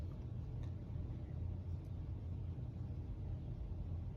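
A 1997 Honeywell HW-612 12-inch reversible single-blade window fan, its motor in need of oil, runs with a steady low rumbling hum that holds even and continuous throughout.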